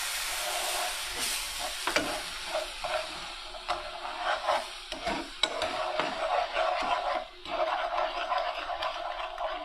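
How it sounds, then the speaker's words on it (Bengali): Milk poured into a cooking pan sizzles and hisses steadily on the heat, with scattered clinks and stirring scrapes throughout, loud and close with no talking. "আমার দুধটা এখন দিয়ে দিচ্ছি"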